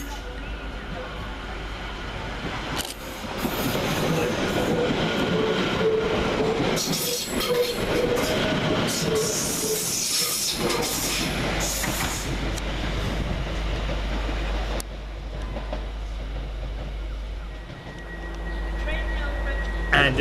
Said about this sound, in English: Next out, 710 121, working the 1843 London Overground service from Chingford to London Liverpool Street.